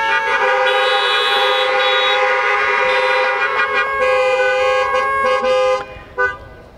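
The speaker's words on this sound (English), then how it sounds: "let me hear your car horns, veterans" Many car horns honk together at a drive-in Memorial Day church service, a loud overlapping chorus of sustained toots and short beeps from parked cars, cutting off near the end with a few last stray honks.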